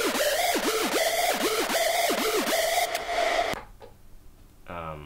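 Detuned square-wave synth lead from a rawstyle hardstyle patch, an octave-up square layered in, playing a repeated pitch-bending riff in a steady rhythm before cutting off into a faint short tail.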